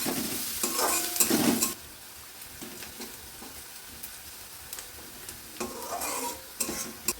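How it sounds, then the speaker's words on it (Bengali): Garlic, ginger and green chillies fry in a pan, a soft sizzle broken by loud bursts of stirring and the scrape of a spoon against the pan near the start and again toward the end. "এবার কাঁচা লঙ্কাগুলোও দিয়ে দিলাম, দিয়ে এগুলো একটু ভেজে নেব।"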